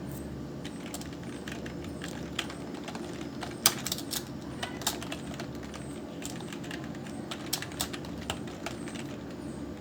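A table name is typed on a computer keyboard as a scattered run of faint, quick key clicks over a soft steady background hum. There is no talking.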